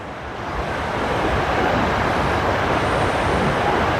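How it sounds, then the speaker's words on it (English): A powerful waterfall roars as a steady, loud, broadband rush of water that fills the scene without a break. "definitely an angry waterfall"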